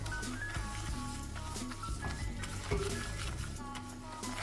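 Flour being stirred into hot melted butter in a pan, a spoon scraping and clinking against the metal in a steady, close rhythm, with faint background noise and no talk.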